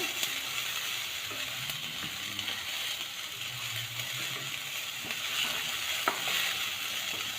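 Sliced onions frying in a pan, browning for a vegetable dish, with a soft, steady sizzle and occasional faint clinks of stirring, quiet and close.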